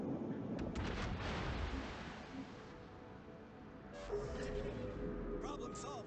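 Naval artillery from the German battleship Großer Kurfürst in World of Warships rumbles as deep, muffled booms and rolling blasts beneath steady commentary, with a fresh salvo swelling near the end.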